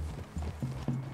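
Horse hooves clip-clop at a steady walking rhythm through a forest clearing in Red Dead Redemption 2, close and moderately loud, with no talk over them.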